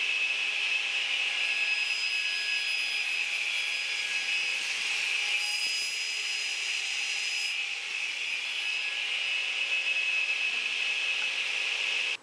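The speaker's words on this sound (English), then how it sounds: "I can go ahead and start cutting it out on the radial arm saw" A radial arm saw runs loud and steady at close range, cutting wood for a step stool with a sustained high whine that barely changes.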